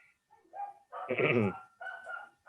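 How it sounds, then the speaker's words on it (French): A dog barks indoors in a short burst, loud and close, with people's voices just before and after. "le chien, ça met de l'ambiance"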